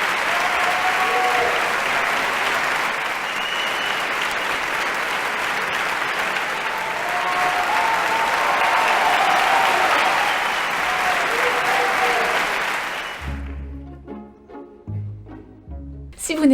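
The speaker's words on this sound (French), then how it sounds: "vous pouvez applaudir pendant un quart d'heure et bloquer toute la production" An opera audience applauds, a long loud sustained roar of clapping with a few faint voices, ending abruptly after about thirteen seconds as music takes over.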